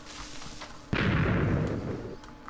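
Explosive cannon blast in Minecraft Factions, a sudden loud boom about a second in followed by a dense, rumbling decay lasting over a second.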